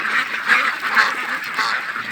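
Yi Liang breeder ducks crowd together at morning feeding, a busy flock keeping up a dense, continuous chorus of overlapping quacks close by.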